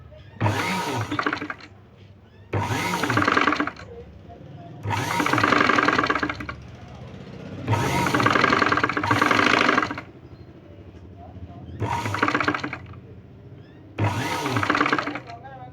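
Sewing machine stitching a boat neck blouse, running in six loud bursts of about one to two seconds each, separated by short pauses and faint background noise.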